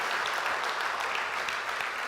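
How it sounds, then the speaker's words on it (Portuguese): A church congregation applauds, a dense and even patter of many hands clapping at once, steady and moderately distant for the whole stretch, with no voices over it. "Dá uma grande salva de palmas para Jesus Cristo."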